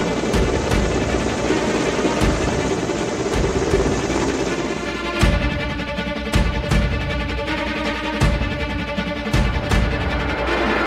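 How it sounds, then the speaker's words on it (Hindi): An Indian Air Force Mi military helicopter flies over Lucknow during a Gandiv exercise drill, producing a continuous loud rotor roar with a droning engine tone and recurring thumps, with no one talking. "लखनऊ के आसमान में एक बार फिर भारतीय वायुसेना के एमआई हेलीकॉप्टर की गड़गड़ाहट सुनाई दी।"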